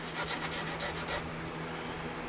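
Steady rasping strokes of sanding a rounded cut on a wooden model ship piece, a quick regular back-and-forth rhythm close up, stopping partway through and leaving only a low background hum.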